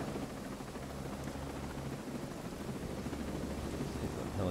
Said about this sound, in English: The helicopter will sit here.